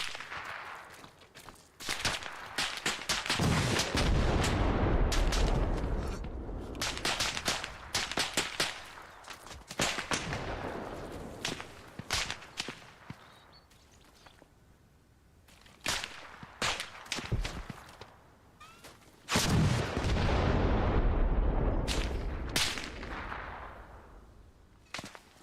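Close gunfire in the video game Arma Reforger: loud, sharp shots in irregular bursts and volleys, with short pauses between clusters and fading tails, and no talking.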